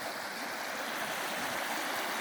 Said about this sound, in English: Listen to the pretty sound of the water.